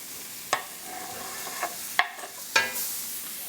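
Chopped onion, celery and bell pepper sauté in a hot pan for a vegan mushroom étouffée, with a steady low sizzle broken by a few sharp scraping stirs.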